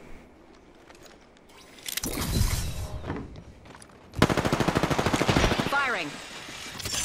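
Automatic gunfire in Apex Legends: a short burst of shots, then a louder, faster sustained rattle of rapid fire ending in a whining ricochet-like tone, close and loud.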